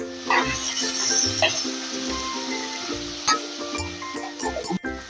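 Paneer fries in a pan for a couple of minutes, a steady close sizzle with light stirring and occasional clinks of a utensil against the pan.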